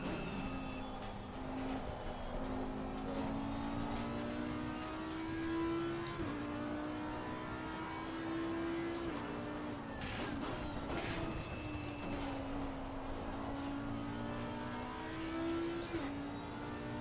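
Trabant P20 two-stroke car in a racing video game at Watkins Glen, its thin buzzing engine drone steady and close, the pitch rising and dropping as it shifts through gears, with no talking.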